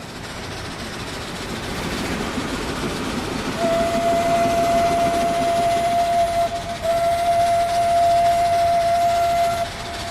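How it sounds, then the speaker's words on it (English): Steam locomotive whistle in the train game Transport Fever 2, a long steady tone over rolling rail noise, briefly broken then sounding again before cutting off. "What a whistle!"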